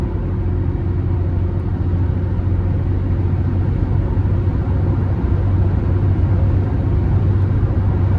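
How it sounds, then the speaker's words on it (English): Steady broadband wind noise and road rumble fill the cab of a small 2000 Nissan Frontier XE Access Cab pickup with a 2.4-liter four-cylinder engine, loud and constant while driving at speed, with no talk. "with the truck being so small, you're just getting a tad bit of wind noise"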